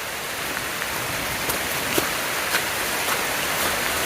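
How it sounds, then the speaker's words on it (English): Heavy tropical rainforest rain pours down in a steady, dense hiss, with a few louder drops spattering close by. "You can hear that the rain's really coming down."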